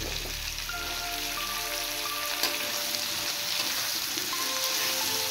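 Gourd pieces and potatoes fry in a pan with a constant, loud, close sizzle and crackle that runs unbroken throughout, with no talking.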